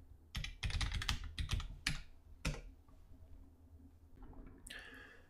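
Fingers tap out a password on a computer keyboard in quick bursts of close, crisp keystrokes, pausing briefly and ending with a few softer clicks.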